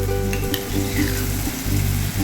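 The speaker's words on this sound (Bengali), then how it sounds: "দইয়ের জলটা দিয়ে দিলাম।" Yogurt hits hot spiced oil with Kashmiri chili powder in a Bengali vegetarian potol shahi kofta gravy, giving a loud, close, steady sizzle with stirring scrapes and a few sharper crackles throughout.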